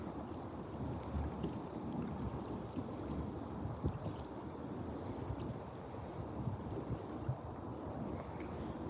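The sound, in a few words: wind blowing while fishing from a boat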